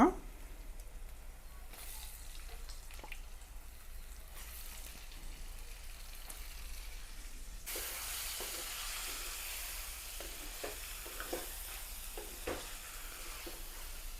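Mutton sizzling with turmeric in a clay pot over a village-style fire, a steady frying hiss that grows brighter and louder partway through, with occasional stirring clicks.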